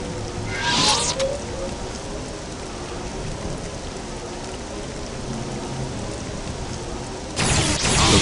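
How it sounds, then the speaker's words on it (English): Rain in the video game Star Wars Jedi Knight: Jedi Academy, falling steadily as a dense, continuous hiss, with louder bursts of storm noise near the start and end. "Ah, this rain's like acid."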